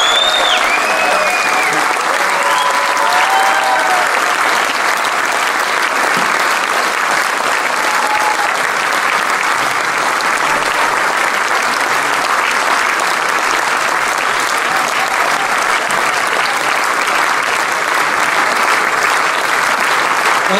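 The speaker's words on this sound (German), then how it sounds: "der Applaus ist von dir." Sustained, loud applause from a blues festival concert audience in Basel fills the whole stretch, dense and steady from start to finish with no talk over it.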